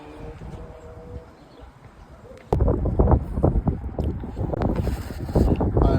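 Low rumbling wind buffets the microphone near a village, calmer at first and then gusting hard and loud halfway through, with steady roaring noise to the end.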